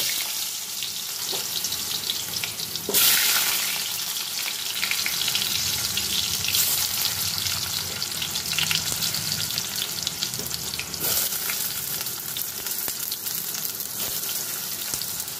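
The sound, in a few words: potatoes frying in mustard oil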